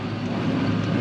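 Steady low drone of a tractor with a loader fitted, running continuously as heard from inside the quiet cab, with no talk.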